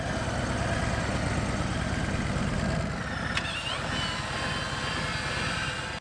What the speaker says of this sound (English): we're gonna let the bike warm up a minute